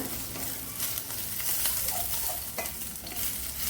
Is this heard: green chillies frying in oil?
yes